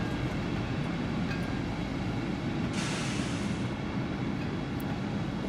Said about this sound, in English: Then again, I'm not too sure how to get this train to stop